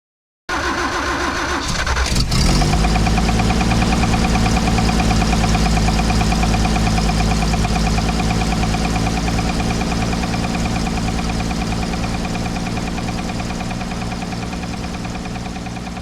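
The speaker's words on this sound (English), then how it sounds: "as you could hear when it fired off, we got that knock" A 1968 Toyota FJ40 engine with a freshly overhauled D40 carburetor cranks briefly, fires up and settles into a loud, steady idle with a regular rhythmic knock throughout, no talk.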